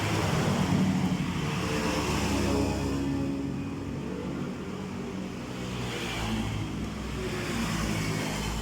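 Honda Vario 125 scooter engine with an injector-circuit ECU fault, revved steadily in a workshop, a continuous loud engine drone swelling and easing over several seconds with no pauses.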